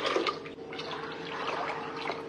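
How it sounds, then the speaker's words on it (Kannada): Water poured from a bottle over washed, soaked black chickpeas in a pot, a steady splashing and trickling pour running close and continuous throughout with no talk. "ತೊಳೆದ್ಮೇಲೆ ನೀರು ಹಾಕೋತಾ ಇದ್ದೀನಿ."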